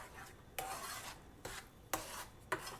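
Boiling guava mixture for guava cheese is stirred in a pot on the stove, giving four rhythmic scraping strokes against the pot at close range, with a soft bubbling hiss between them.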